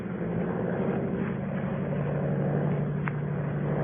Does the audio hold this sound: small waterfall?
no